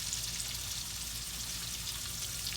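Catfish fillets frying in oil in a skillet, a steady dense crackling sizzle that holds evenly throughout, close and uninterrupted.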